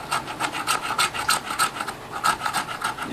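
Dry, waxy fatwood is scraped into dust with a fast, rhythmic series of close, harsh rasping strokes, each one sharp and regular.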